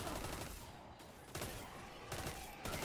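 Foregone Conclusion auto rifle firing in Destiny 2: a continuous rapid burst of gunfire, loud and sustained across the whole stretch, with sharp onsets marking several bursts near the end of the magazine.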